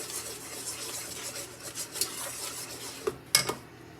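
A spoon stirs Jamaican-style BBQ goat in a pot with a steady, soft scraping rub, then a few sharper metallic clinks near the end, close and fairly quiet, with no talking.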